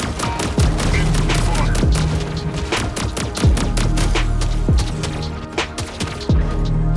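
Zephyr weapon in the Mech Arena video game firing a rapid burst of sharp, punchy shots in repeated volleys over a steady game-engine hum, loud and close throughout.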